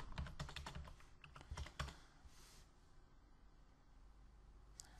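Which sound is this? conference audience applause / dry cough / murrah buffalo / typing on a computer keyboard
typing on a computer keyboard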